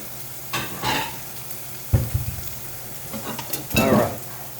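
Bacon frying in a pan with a low sizzle, broken by several scraping stirs and utensil clatters spread across a few seconds, fairly close and without speech.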